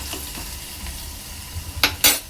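Onion sizzles gently in a pan of hot oil while a spoon stirs it, a soft steady frying hiss with a couple of brief scraping clinks near the end, close and without talk.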